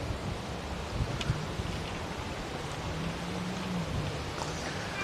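Strong wind buffeting a microphone at a cricket ground on the Cape Flats, a constant loud broadband rush with faint tonal traces, with no speech.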